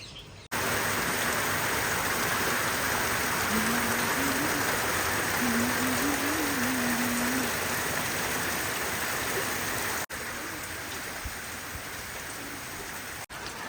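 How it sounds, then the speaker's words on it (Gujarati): Gentle morning rain falls in a steady, even hiss of fine drops that stays continuous and fairly close throughout, with a brief faint tonal murmur partway through. "ધીમી ધારે સવારનો વરસાદ ચાલુ છે"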